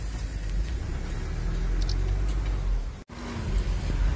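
A car creeps through stop-and-go traffic in Vladivostok, with a low, steady engine and road rumble from inside the cabin, briefly cut by a short dropout, then a faint tonal whine as it moves on.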